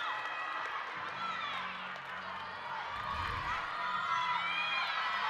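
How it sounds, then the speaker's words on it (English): Crowd cheering and applause in a college gymnastics arena after a stuck uneven bars dismount, a steady roar with whoops, heard over a commentator's voice. "Lands to a raucous applause"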